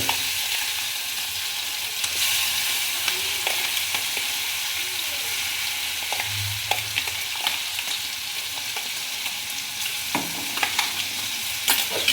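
Chillies fry steadily in a little oil on a griddle, with a few faint scrapes and clinks of stirring over the continuous crackle.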